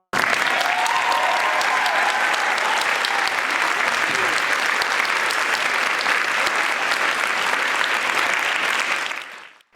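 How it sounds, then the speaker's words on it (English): An audience gives a group of students a long, sustained round of applause at a school performance, dense and even clapping from a large crowd that carries on for several seconds before cutting off. "Let's give them one more round of applause."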